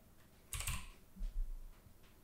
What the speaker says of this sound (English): So I'll type in the same text